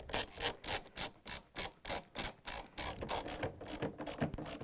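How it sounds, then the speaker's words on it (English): A ratchet tightens bolts on a Samsung washer spider arm, with about a dozen regular back-and-forth strokes of clicking, rasping pulls, close and alone. "now we're going to tighten the opposite bolt"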